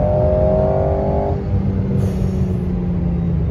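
An Alpine sports car accelerates hard at night, a loud, steady engine rumble and roar that holds throughout with no talk.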